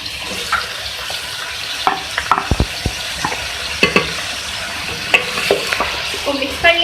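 Ridge gourd being stirred into a sizzling pan of mixed vegetable sabzi, a steady frying hiss broken by repeated clanks and scrapes of a spoon against the pan.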